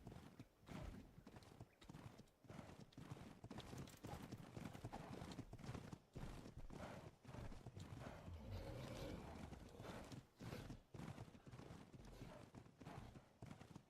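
Galloping horse hooves sound in the video game Ark: Ragnarok as a steady, rapid clip-clop rhythm that runs almost throughout, faint overall, with brief pauses and an occasional whinny.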